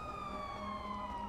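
A police siren in the video game Grand Theft Auto 5 wails steadily with a slowly falling pitch, heard fairly faintly in the distance without a break.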